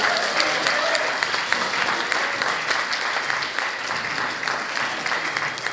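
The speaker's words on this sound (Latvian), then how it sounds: "skaļiem aplausiem" Loud, continuous audience applause at a student parliament discussion event, thick uninterrupted clapping from a crowd that stays at full strength for the whole stretch.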